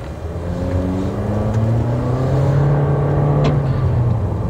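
Toyota Corolla Cross 1.8 GR Sport with a CVT and 1.8-litre engine pulling hard from inside the cabin, its engine note rising steadily in a smooth, continuous drone with no gear-shift breaks, over road and wind noise.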